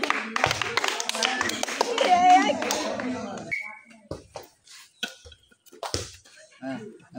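Hand clapping from a contest audience cheering a winner of a bottle-matching challenge, a burst of loose claps in the first few seconds, then scattered taps and voices, including children, as it dies down.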